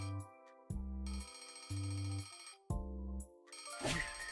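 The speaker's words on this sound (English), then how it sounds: "The familiar noise of Henry's alarm clock announces the dawn of a new day." A mechanical alarm clock rings in a video game trailer, loud repeated bursts of bright bell ringing separated by short pauses, ending in a rattling clatter.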